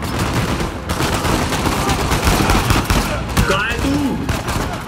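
Rapid turret gunfire in Uncharted 4, a loud, dense, continuous burst of shots from a game battle, with brief voice fragments mixed in underneath.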